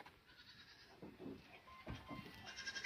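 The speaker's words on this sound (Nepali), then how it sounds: "दा बाख्राको नाम त सुल्तान महाबलीहरू पो रहेछ" Goats bleat faintly at a goat farm in Kankebong, Rimbik, with a few short, scattered calls at a distance over low background noise.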